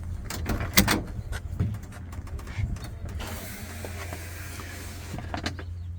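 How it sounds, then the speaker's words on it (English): Door of a custom 1955 Chevy 210 opening up close, with a few sharp latch and handle clicks followed by a low, steady hum in the background. "Can I open the door here?"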